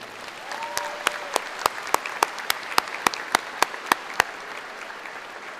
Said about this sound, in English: So give them a big round of applause again.